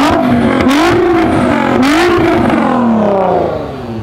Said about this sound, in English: I want to hear your engine quickly.